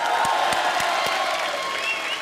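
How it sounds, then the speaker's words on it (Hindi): Studio audience on a comedy show clapping and cheering for Ranveer's style, a dense steady wash of applause with a few sharp claps standing out, loud and close, no talking. "एक बार रणवीर के स्टाइल के लिए जोरदार तालियां"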